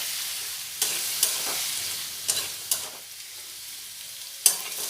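Potatoes fry in a pan with a soft, steady sizzle, punctuated by several sharp scrapes and knocks as a spatula stirs them.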